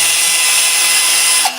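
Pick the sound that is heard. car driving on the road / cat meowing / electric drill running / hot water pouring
electric drill running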